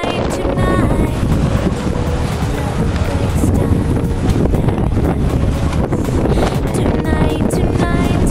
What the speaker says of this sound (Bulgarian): Много ветровито, доста лошо време.